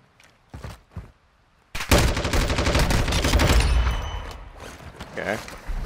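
Lachmann 5.56 assault rifle fired in Warzone 2: a sustained burst of rapid automatic gunfire, loud and close, follows a few isolated sharp shots and trails off into scattered hits and game effects.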